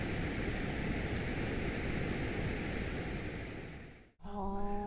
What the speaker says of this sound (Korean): 마지막으로 브라운 노이즈라는 게 있는데 브라운 노이즈는 고주파, 높은 소리요. 여기를 제거한 겁니다.